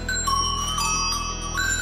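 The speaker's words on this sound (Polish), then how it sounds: "dzwonki, które wciąż rozbrzmiewają na wyspie" Traditional Sardinian shepherds' bells ring with bright, sustained metallic tones that overlap and shift pitch, steady and fairly loud with no talk.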